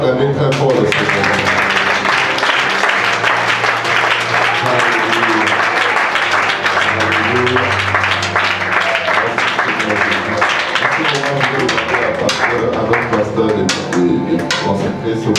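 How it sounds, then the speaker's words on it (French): Church congregation applauding and cheering for the Lord at a French-language worship service, sustained dense clapping with shouts and voices mixed in, loud and continuous. "Est-ce qu'on peut acclamer très fort le Seigneur?"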